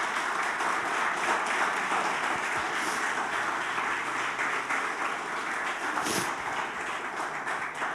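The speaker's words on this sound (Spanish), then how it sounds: "¿Por qué no le das un aplauso al Señor por eso?" A church congregation applauds continuously, a thick, even wash of many hands clapping at moderate distance with a brief louder swell near the end and no speech over it.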